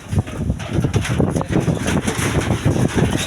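Strong gusty wind buffets the microphone with a rough, rumbling roar that never lets up.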